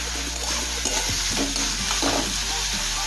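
Finely hand-chopped onions, two medium ones, fry in hot oil for a dhaba-style egg tadka. A steady close sizzle runs throughout, with irregular scraping stirs of a spoon against the pan and no voices.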